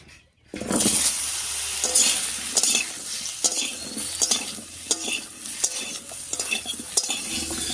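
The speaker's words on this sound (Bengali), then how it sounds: "ফোড়নের উপরে ঝিঙে দিয়ে একটু বেশি আঁচে ভেজে নিচ্ছি।" Sliced ridge gourd hits a hot tempering of dried red chilli, bay leaf and nigella seeds on high heat, bursting into a loud, continuous sizzle with repeated scraping and clinks of a spatula against the pan.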